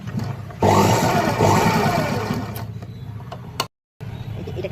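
A sewing machine stitches blouse fabric for a latkan tassel with a steady, loud mechanical whir that runs for about two seconds, then stops, with quieter handling noise before and after.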